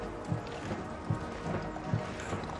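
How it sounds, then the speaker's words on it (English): Hooves of the Queen's pony strike the ground in the Windsor Castle quadrangle during a state funeral procession. There is a steady clip-clop, a few evenly spaced strikes, at moderate distance over a busy outdoor ambience. "standing there on the right of the picture, the Queen's pony or horse, Emma"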